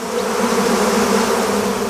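Honey bees buzzing near hives, a dense continuous drone of many wings at steady loudness, close and unbroken with no talk.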